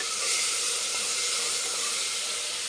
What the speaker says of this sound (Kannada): ಚೆನ್ನಾಗಿ ಫ್ರೈ ಆಗಿದೆ. ಇದಕ್ಕೆ ಕಾಳು ಹಾಕ್ತಾಯಿದ್ದೀನಿ.